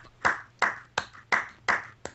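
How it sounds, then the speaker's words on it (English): Six sharp claps in a steady rhythm, roughly a third of a second apart, each a crisp close burst with a short decay, alone over faint low hum. "There's a clap for you."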